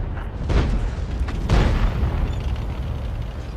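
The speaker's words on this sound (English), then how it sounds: "And that Oni, so he got a shot off on something." A tank gun fires in the World of Tanks video game, an AT-8 tank destroyer match, with two loud, deep booming blasts close together over a constant rumbling game background.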